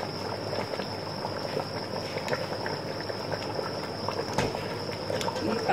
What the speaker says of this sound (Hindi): ये पानी डालेंगे